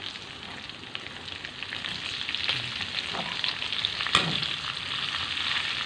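Onion frying with sausage in a pan: a loud, continuous close-up sizzle with scraping stirs and a sharp clatter partway through, with no talk.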